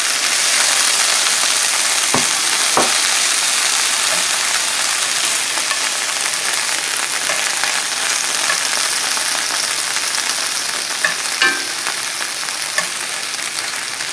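Vegetables sizzle and fry steadily in a pan alongside browning Spam, a dense continuous crackle with a few clacks of a stirring utensil against the pan, close and loud with no talking.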